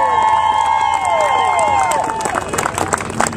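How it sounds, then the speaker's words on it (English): Applause and cheering from an audience gathered for a thank-you address, with a sustained crowd roar carrying whistles and voices that breaks into denser, scattered clapping toward the end. "you ought to give yourselves one more big round of applause"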